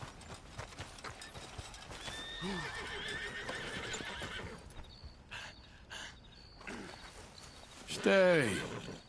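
A horse whinnies loudly near the end of a Red Dead Redemption 2 game scene, following steady hoof clops and mechanical clicking in a busy game-like soundscape.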